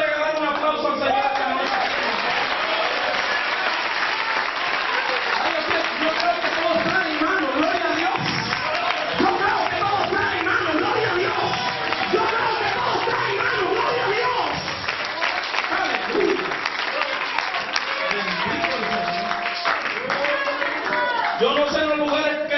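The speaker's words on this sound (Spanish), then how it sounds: "¿Alguien le puede regalar un aplauso al Señor?" A church congregation applauds the Lord, sustained loud clapping mixed with cheering voices and shouts, continuous and crowded throughout with no pause.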